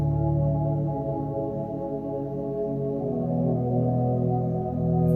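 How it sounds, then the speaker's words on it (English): A sustained, mellow synth pad from Logic's native instruments drones on a steady chord, soft and even with no sharp attacks, resting quietly on its own. "this is a very ambient sound that's hiding out in the background"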